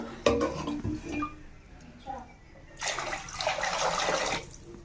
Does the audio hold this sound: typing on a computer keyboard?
no